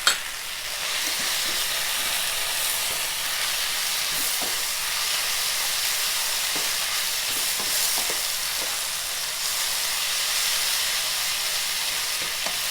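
Vegetables and fried shiitake mushrooms for vegetarian yellow noodle stir-fry sizzle and hiss steadily over high heat, with scattered stirring clicks and scrapes throughout, close and fairly loud.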